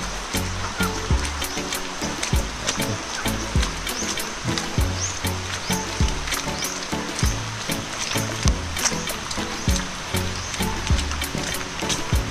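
Heavy, unceasing rain and rushing floodwater pouring down from higher ground, a dense steady roar of running and splashing water, loud and continuous throughout with no talk.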